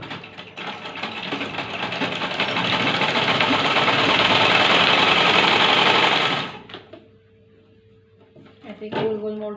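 Sewing machine stitching a seam on a sleeve, a loud, steady, fast mechanical whir running for about six seconds before stopping, followed by a few soft handling knocks.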